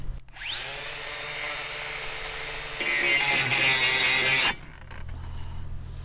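A Metabo WVB 18 LTX BL 15-125 Quick cordless angle grinder whines at high speed, then its pitch strains and roughens loudly as the disc binds in metal before cutting out abruptly.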